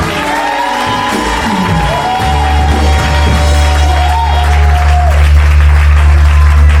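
A church congregation claps and cheers loudly and continuously, with whoops and shouts rising over dense applause and sustained tones from instruments or voices beneath the crowd.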